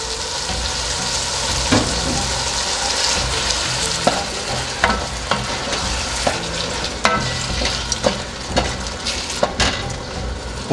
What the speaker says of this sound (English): Now adding a tomato puree.